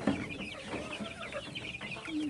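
Broiler chickens in a pen cluck steadily with several overlapping calls, nearby and moderately loud, over a busy farmyard background.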